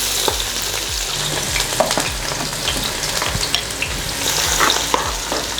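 Onions frying in a generous amount of hot cooking oil in a pot, a steady dense sizzle and crackle throughout with faint occasional stirring clicks, close and unbroken.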